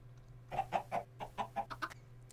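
A series of about eight quick, evenly paced clucks from Minecraft chickens, close and clear over a faint steady hum, with no talk.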